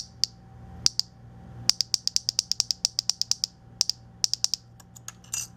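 Sharp, bright plastic clicks from a PEZ dispenser ratcheting, some single, others in quick runs, close and crisp over a faint low hum.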